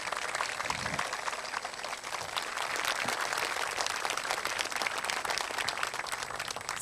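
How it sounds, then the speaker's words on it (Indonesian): Studio audience applauding a guest on an Indonesian evening talk show in Jakarta, a dense, steady wash of many hands clapping at moderate distance, sustained without pause and with no talk over it. "Pak Ahok, tepuk tangan dong."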